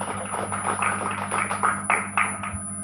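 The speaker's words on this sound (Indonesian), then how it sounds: "Tepuk tangan dulu untuk Bapak Jokowi" An audience at a presidential campaign outreach gathering in Central Papua claps for Jokowi, a scattered, moderately distant round of hand claps over a steady electrical hum.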